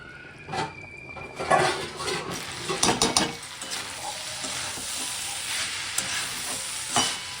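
Cauliflower is stir-fried in a pan, a continuous sizzle broken by scraping spatula strokes and clanks against the pan in the first few seconds, then settling into steady frying.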